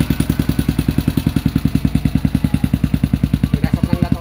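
An XR150 motorcycle engine that has run out of oil runs noisily, its close, steady rapid pulsing beat carrying a mechanical clatter throughout.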